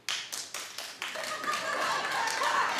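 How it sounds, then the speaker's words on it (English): A television studio audience claps, opening with a few sharp separate claps that quickly swell into sustained, moderately loud applause with a hint of laughter. "Clap if this is a show that you watch."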